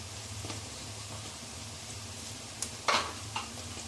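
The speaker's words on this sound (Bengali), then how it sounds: "একটু হালকা করে আমরা এবার পেঁয়াজগুলোকে ভেজে নেব।" Onions fry in hot oil for a chilli chicken base, giving a faint, steady sizzle broken by brief stirring scrapes near the end as garlic paste goes into the pan.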